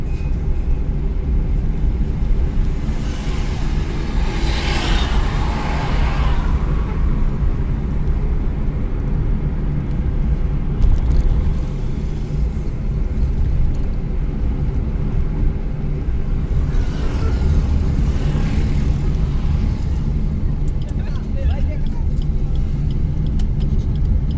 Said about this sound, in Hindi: देखो भाग रही ना गाड़ी